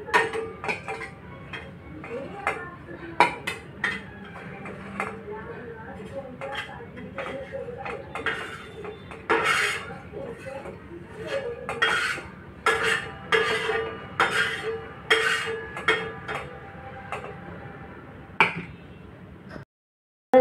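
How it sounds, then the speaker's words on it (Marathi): Fried green chillies are moved from the pan onto a plate, with many bright clinks and taps of a utensil on dishes. The strikes come in irregular bursts, close and fairly loud, with a few pauses between them. "आता मी या प्लेटमध्ये काढून घेते."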